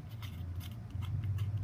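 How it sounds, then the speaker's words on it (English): Scissors snip through ribbon in a quiet craft setting, a few crisp close cuts over a low hum, no voices. "sometimes you need to recut the end of your ribbon"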